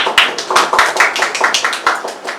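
Audience at a live Hindi theatre play clapping, a fairly small group giving a brisk, uneven round of claps close by, with no talk over it.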